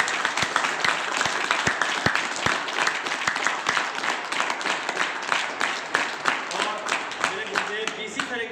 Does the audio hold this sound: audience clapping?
yes